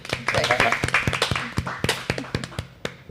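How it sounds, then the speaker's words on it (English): A live audience claps for a podcast guest on a talk show set, with a quick run of sharp, irregular hand claps close by and a person speaking over them. "Clap it up for her, guys."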